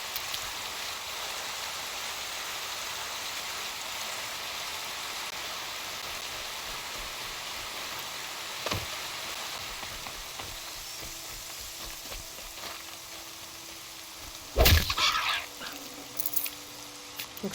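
Rain falling in the video game Horizon Zero Dawn, a steady hiss of drops across the scene lasting throughout, with occasional sharp thuds and clanks breaking in near the end.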